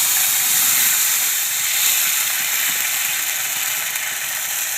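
Water poured into a hot pan of roasted sesame seeds sets off a loud, steady sizzling hiss that holds without a break and eases only slightly toward the end.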